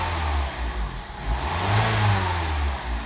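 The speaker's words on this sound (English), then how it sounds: "I'll give her a few revs to blow any of that remaining throttle body cleaner out." A 2013 Mazda CX-5 engine idles with a low rumble after throttle body cleaning, swells into a brief rev partway through, then settles back down.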